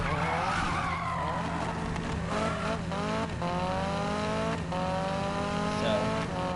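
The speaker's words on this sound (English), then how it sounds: "one tap on this brake and the car is sliding" Car tires in Need for Speed 2015 squeal and skid through a long slide under braking, a drawn-out screech over the engine's drone, loud and sustained across the whole stretch.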